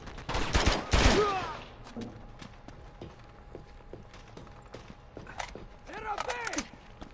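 Gunfire in the video game Uncharted 2: a loud burst of shots near the start, then a scatter of fainter single shots and impacts, with a short final flurry toward the end.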